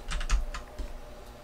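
Keys clack on a new computer keyboard with a small Enter key, a quick burst of close taps with a heavier thump in the middle, then a few scattered presses, with no talking.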